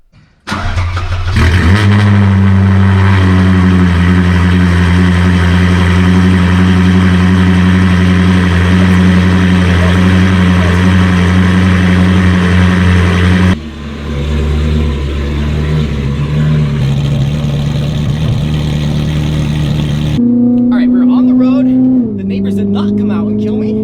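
A Ferrari 458 engine fires up with a sharp burst, then holds a loud steady idle with a shift in pitch midway and finishes with quick revs, heard close up.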